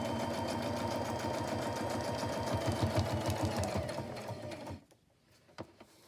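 Zigzag stitching on a sewing machine runs loud and steady with a rapid mechanical rattle for about five seconds, then stops, leaving quiet room noise with a couple of small clicks.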